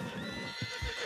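A horse in the video game Red Dead Redemption 2 gives a short, close neigh with a few hoof thuds underneath.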